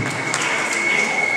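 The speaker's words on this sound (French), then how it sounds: "On l'applaudit." Applause at a birthday celebration, a brief wash of clapping from a gathered crowd at steady volume, with a high sustained tone running underneath.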